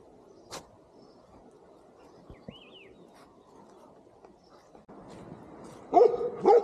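A few loud barks from Himalayan dogs in Chitkul village near the end, after mostly quiet background with scattered faint knocks and a brief distant whine.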